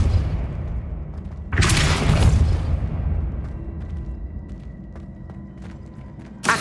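A Depulso blast in Hogwarts Legacy bursts out as a loud booming whoosh that rings out and fades over several seconds, followed by faint scattered clicks and small impacts, with no talk.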